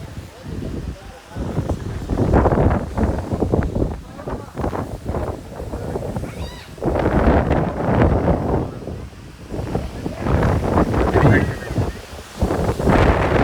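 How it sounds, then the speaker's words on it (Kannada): Strong wind gusts buffet the microphone outdoors near the Bichchalamma temple at Mantralaya, a steady roaring rush that swells and eases, with voices talking underneath. "ಗಾಳಿ ಹೊಡಿತಿದೆ"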